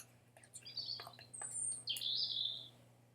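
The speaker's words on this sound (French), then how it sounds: "Oh, c'est un oiseau qui vient de voler, génial." Bird chirping in the Minecraft Jurassic Craft mod: several short, bright tweets scattered over a steady low game hum, ending in a longer, louder trilling call.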